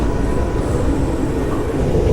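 Inside an Amtrak passenger train under way, a steady low rumble and rolling roar from the moving carriage continues evenly, with no talking.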